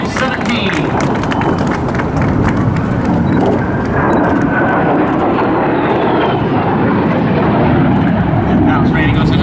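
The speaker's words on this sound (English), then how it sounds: "Randy Ball in the MiG 17." A MiG-17 jet fighter flies an airshow display in Laredo, producing a loud, rushing engine roar that fades gradually as it passes. Commentary and crowd noise continue underneath.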